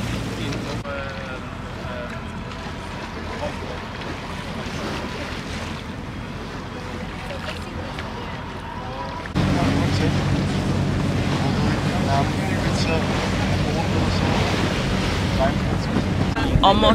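A sunset tour boat moving over the sea near Lisbon, with waves sloshing, an engine rumbling and wind gusting against the microphone; the noise grows louder halfway through.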